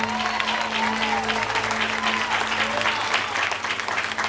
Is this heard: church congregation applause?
yes